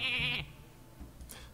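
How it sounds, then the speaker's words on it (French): A sheep bleats once in the Hearthstone card game, a short wavering cry near the start, followed by quieter game sound effects and a brief bright chime toward the end. "le son du mouton c'est horrible"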